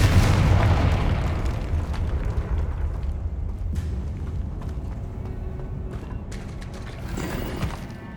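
Confringo, a fire spell in the video game Hogwarts Legacy, erupts as a loud booming blast at the start, then a long rumbling, crackling decay with scattered smaller bursts.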